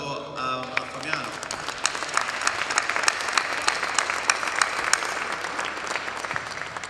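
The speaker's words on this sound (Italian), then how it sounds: "Un applauso a Fabiano." Audience clapping for a speaker at a comics fan presentation about Dampyr, steady scattered applause at moderate volume, with a voice at the start.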